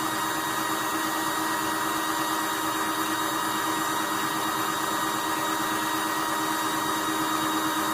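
A steady, continuous motor whir from a cordless drill with a low battery runs at an even pitch throughout, with no talking.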